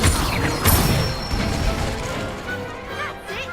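Hogwarts Legacy wand spells being cast, bursts of crashing impacts and whooshing magical effects in quick succession, fairly loud with shimmering tails and a brief voice among them.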